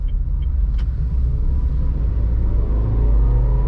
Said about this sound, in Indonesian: masuk ke gigi 2 mesin meraung ya bos ya